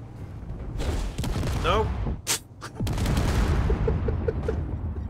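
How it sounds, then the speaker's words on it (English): A video game explosion sounds among scattered gunfire-like bursts and sharp cracks, with a loud booming hit near the middle and people talking throughout. "Did something just explode?"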